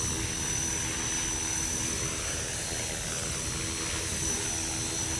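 An EXI 450 Pro RC helicopter's rotor whines steadily and continuously, a constant buzzing drone with a high tonal hum, fairly close and unchanging throughout.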